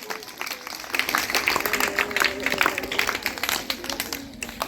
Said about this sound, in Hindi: सभी बच्चे जोरदार तालियां बजाइए।